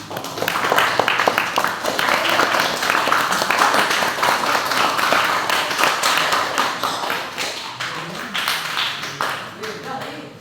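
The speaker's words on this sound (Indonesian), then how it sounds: "kita kasih tepuk tangan untuk teman-teman kita." Classroom applause from students, steady loud clapping that fills the whole stretch with taps and thuds, while voices talk over it.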